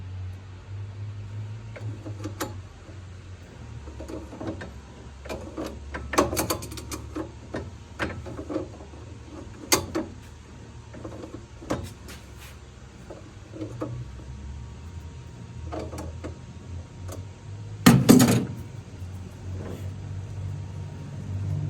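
A hand-turned 1990s Cushman Truckster engine works against compression, with scattered close clicks and ratcheting knocks and one louder clunk near the end, all over a low background hum.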